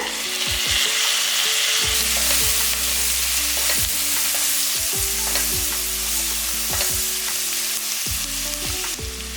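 Tomato and onion sautéing in a pan for chicken gravy, a loud, steady sizzle with frequent rhythmic scraping and tapping of a spatula stirring against the pan, close up and without speech.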